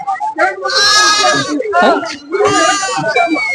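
Goat kid at a livestock market in Kunnathur bleats loudly and close by, two or three drawn-out quavering cries with brief pauses between them.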